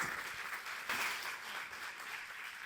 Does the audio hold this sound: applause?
yes